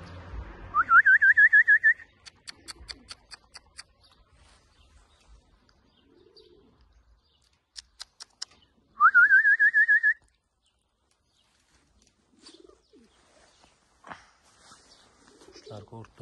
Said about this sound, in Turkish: Kuşlar korktu.